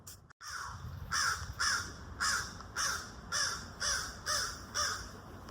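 Crows caw outdoors in a steady rhythmic run of about eight harsh, evenly spaced calls, fairly close and clear above a soft background hiss.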